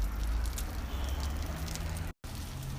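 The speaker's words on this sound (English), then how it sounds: "Let's get it sizzling" Chicken and sweet potato patties sizzle in hot oil, giving a soft, close crackling hiss with scattered pops. The sound is brief and fairly quiet, broken by a short gap.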